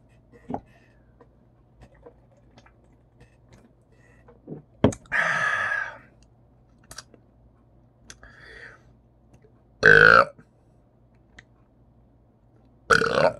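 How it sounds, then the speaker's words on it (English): Loud, close burps after drinking Icehouse Edge beer, three or four separate belches spaced apart over a quiet room with faint clicks and soft breathing. "we're getting some good burps today."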